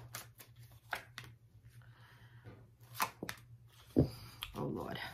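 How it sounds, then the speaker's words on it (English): Several short, crisp bursts of cards being shuffled, close by, with brief pauses and a faint low hum underneath. "One more shuffle."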